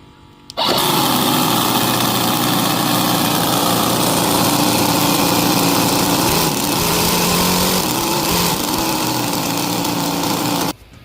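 A small high-revving nitromethane V-8 model boat engine roars to life abruptly and runs loud and steady for about ten seconds, then cuts off sharply; the engine has a problem.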